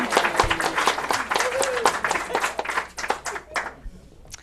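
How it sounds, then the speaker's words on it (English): An audience gives a final round of applause at a live event, with dense, uneven clapping and cheering voices that thin out toward the end. "one last round of applause"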